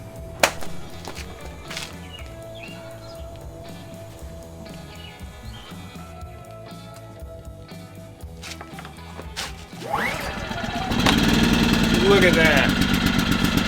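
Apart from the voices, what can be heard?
A-iPower SUA2000i inverter generator starting and running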